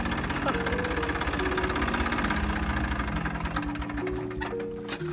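A tractor engine idles steadily close by, a continuous low rumbling drone with a knocking throb, and faint voices in the background.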